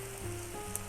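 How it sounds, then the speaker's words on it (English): Kimchi stir-frying in a pan over medium-low to medium heat for a chicken kimchi stew, a steady soft sizzle with a faint tick near the end, no talk. "So stir fry them in between medium-low heat to medium heat."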